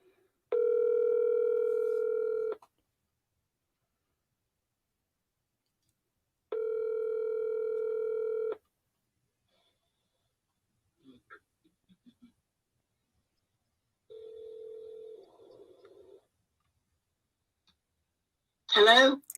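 A phone line gives two long steady ringback tones, then some faint clicks and a short buzzing burst, and a brief voice comes in at the very end.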